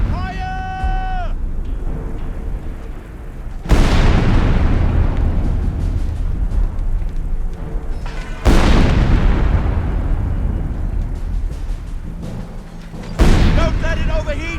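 Artillery fire in the World War II strategy game Company of Heroes 3: three heavy, loud booms, each followed by a long rumbling decay, with brief shouted voices at the start and end.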